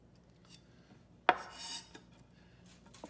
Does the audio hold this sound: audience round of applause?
no